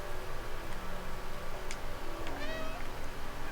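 A single cat meow in the video game Stray rises out of a steady, pulsing background drone with faint ticking.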